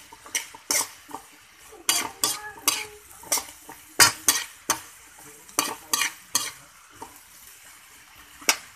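Spatula scraping and clinking through sautéed chayote seasoned with salt and pepper in a pan, a steady run of sharp close stirs over a soft sizzle, no voices.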